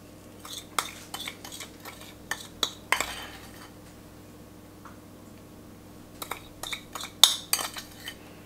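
A spoon clinks and scrapes as it scoops a butter and sugar mixture onto muffins, in short light taps and clicks in two bursts with quiet between them.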